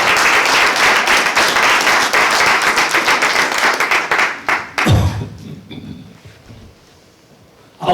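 Audience in a church clapping loudly and steadily for about five seconds, then the applause breaks off into a few thumps and near silence.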